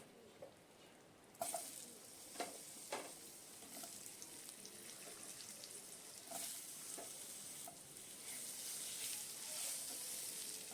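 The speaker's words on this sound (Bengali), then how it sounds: "এবার আলুটাও ভালো করে ভাজতে হবে।" Potatoes frying in hot oil in a pan for a vegetarian pumpkin dish, a steady soft sizzle with a few clinks and stirring scrapes, close and fairly quiet with no talk.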